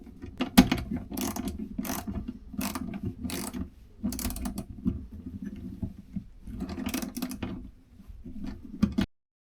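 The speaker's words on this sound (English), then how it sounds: "we'll proceed by fastening them with a 10mm spanner" A 10mm spanner ratchets repeatedly as toolbox bracket bolts are tightened on a Touratech motorcycle toolbox, rapid close clicking bursts with brief pauses between strokes, no talking.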